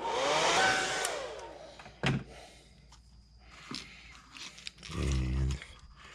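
A heat gun or hair dryer blows over an airbrushed bullfrog topwater popper lure, a loud whooshing burst in the first second that fades away, followed by scattered clicks and handling knocks.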